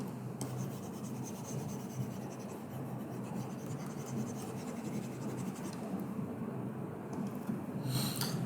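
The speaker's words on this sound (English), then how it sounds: "Let me erase everything first." Erasing marks from a worked math grid gives a faint, steady rubbing and scratching that runs continuously throughout, quiet and close, with no voices.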